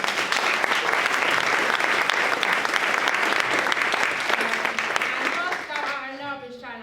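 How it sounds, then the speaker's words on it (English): A large audience at a finance-industry career event claps loudly in a dense, sustained burst of applause that gradually thins and fades near the end as a voice begins speaking. "So can we give a round of applause?"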